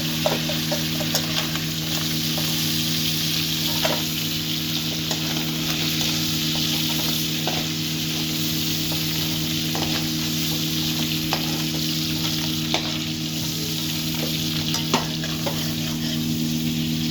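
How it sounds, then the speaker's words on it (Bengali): Sea crab fries in hot oil with a steady, dense sizzle while a utensil stirs it, giving soft scraping clicks at intervals throughout, with no talking. "খুব দারুণ লাল লাল করে ভাজা হয়ে গেছে"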